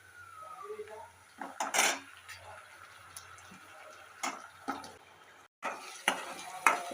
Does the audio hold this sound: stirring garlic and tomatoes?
yes